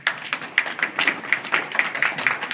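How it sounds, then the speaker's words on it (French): A conference audience applauds, a sparse patter of individual claps with an uneven rhythm, fairly close, brief and without talk. "M. Landiata Djemé, que je vous demanderai d'applaudir s'il vous plaît"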